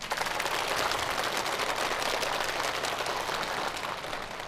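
Sustained applause in a large hall, a dense crackling clatter of many hands clapping, loud and continuous before tapering slightly at the end.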